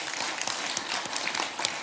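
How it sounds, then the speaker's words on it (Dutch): Applause from those gathered at a Hardenberg municipal council meeting, a short burst of fairly quiet, scattered clapping from a small group in a meeting room. "applaus mag."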